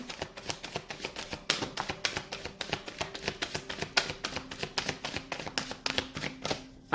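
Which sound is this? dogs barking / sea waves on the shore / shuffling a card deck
shuffling a card deck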